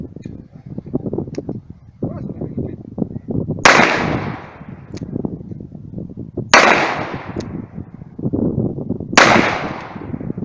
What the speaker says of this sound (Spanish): asamos los 6 tiritos que tiene el revólver